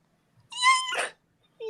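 A person's voice imitates a cat's meow with a short, drawn-out mew followed by a breathier tail, then the start of another vocal sound.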